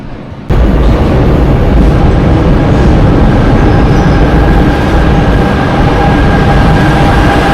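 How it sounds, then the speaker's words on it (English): A train in a Buenos Aires station rumbles loudly and continuously, a dense roar of wheels and carriage noise starting abruptly and holding steady throughout, with no voices. "then we're gonna board the train"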